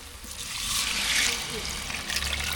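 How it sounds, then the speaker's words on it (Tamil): Tamarind water poured into a simmering eggplant curry (kai porichcha kuzhambu), a steady close liquid splash and trickle lasting a couple of seconds, with faint kitchen background. "இப்போ கரைச்சி வச்சுருக்க புளி தண்ணியை சேர்த்துக்கலாம்"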